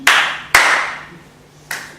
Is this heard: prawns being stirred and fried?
no